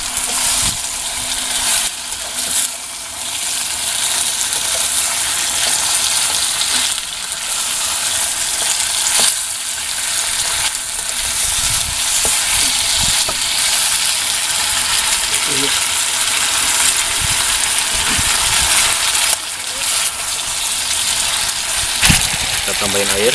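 Banana root (bonggol pisang) pieces stirred while frying in a pan give a steady, loud hiss of sizzling oil with scattered scraping clicks of the spatula throughout.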